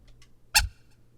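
A squawking synth preset from the Phase Plant Sinewave Safari pack fires a single short, loud, bird-like honk, bright and harsh, alone against near silence.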